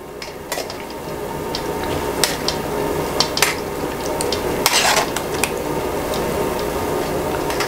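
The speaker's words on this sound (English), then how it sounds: "You take a spoon and kind of move this around." Spoon stirring and pressing palm date pulp in a strainer over a bowl so the juice drains, soft wet squishing with a few sharp metal clinks against the dish, close and quiet with no talk.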